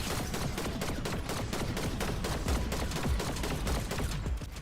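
Dense, rapid gunfire from a Fortnite match, with continuous overlapping shots filling the whole stretch at a steady loud level.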